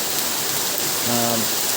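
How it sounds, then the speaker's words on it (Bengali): Heavy, continuous rain pours down during a flood in Noakhali town, a dense, steady hiss of drops on water and surfaces close by, with a brief faint tonal voice-like sound partway through. "আজকে দ্বিতীয় দিন এভাবে টানা বৃষ্টি চলছে"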